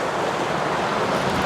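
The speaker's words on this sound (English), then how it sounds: "You'll see the creek here. Flowing like crazy." A fast-flowing creek, swollen and rushing hard, gives a steady, close roar of churning water with no breaks and no voices.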